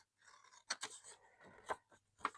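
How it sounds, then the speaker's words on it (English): A long pair of scissors cuts through paper in a few quiet, separate snips and crisp slicing strokes, close and faint, with no voices. "I'm going to take a long pair of scissors."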